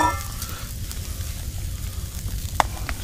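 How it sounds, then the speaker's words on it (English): Mushrooms sauté in a pan beside a grilling steak, giving a steady, moderate sizzle and crackle with a faint hum underneath and one sharp tick near the end. "let's start sauteing them"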